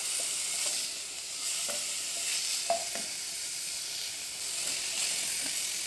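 Homemade, not canned, sardines frying in a pan make a gentle continuous hiss at moderate volume, dotted with faint pops and light clicks.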